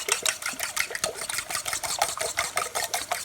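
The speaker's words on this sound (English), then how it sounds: "Now we're going to go for 6 eggs with a little bit of milk. Scramble them up real good." A fork whisks six eggs with a little milk in a bowl in fast, even rhythmic strokes, a close wet clicking and sloshing with no talking.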